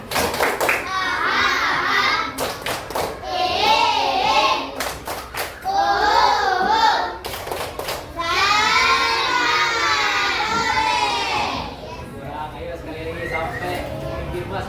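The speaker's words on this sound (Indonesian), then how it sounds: "Coba semuanya tepuk semangat." A classroom of fourth-grade children performs a rhythmic spirit clap, bursts of quick patterned claps alternating with loud chanted group voices, close and energetic, ending on a softer murmur.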